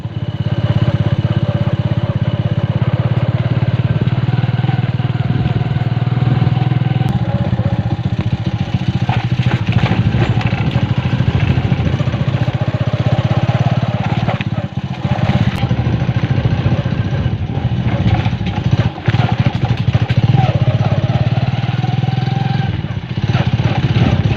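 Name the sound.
motorcycles being ridden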